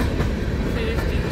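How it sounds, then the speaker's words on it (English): Empty BNSF coal train cars rolling past at close range on the Brookfield Subdivision near Callao, Missouri, a loud steady rumble with rhythmic clatter of wheels over rail joints. "BNSF Wide World of Trains leading on Empty Coal Train by Tyler McCully."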